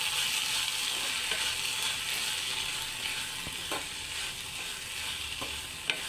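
Oyster masala with chili powder and salt is stirred in a hot pan, giving a steady close sizzle broken by occasional scraping knocks of the spoon.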